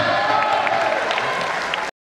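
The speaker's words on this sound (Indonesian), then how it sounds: "Tepuk tangan untuk program." Audience applause at a Batak family gathering of the Nababan clan, a dense steady wash of clapping from a crowd with faint cheering, fairly loud, ending abruptly.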